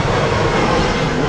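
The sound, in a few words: airplane flying overhead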